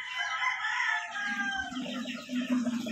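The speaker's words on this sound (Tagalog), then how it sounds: "Tingnan natin yung mga manok nila mga boss." A fighting rooster crows loudly and close by on a gamefowl farm, followed by a steady, low clucking from chickens that continues underneath.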